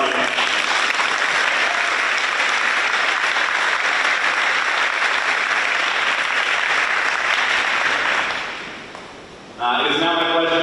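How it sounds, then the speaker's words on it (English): Loud, sustained audience applause at a school awards night, dense clapping that fades away near the end before a voice begins speaking. "Please give another round of applause."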